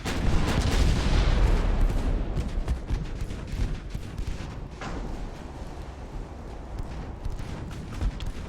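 Naval gunfire firing high-explosive shells between battleships in the Ultimate Admiral: Dreadnoughts video game, a loud rumbling barrage of booms and blasts that fades into a dense continuous crackle.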